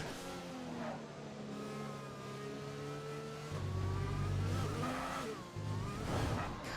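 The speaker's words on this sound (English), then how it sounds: "it's definitely losing grip, especially right as I said that" An F1 2020 race car losing grip at Zandvoort, its engine droning steadily before the tyres break into a loud squeal that wavers and rises near the end.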